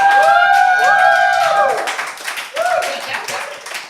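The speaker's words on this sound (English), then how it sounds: "Do not clap that abomination." Audience clapping and cheering in a hall at a live comedy show, with loud voices and whoops rising and falling over the applause before it fades.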